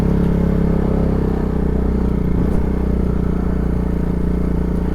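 A 2010 TGB Blade 550 SL 4x4 quad ridden outdoors in nature gives a steady, low engine drone with light rattling, continuous and fairly close throughout.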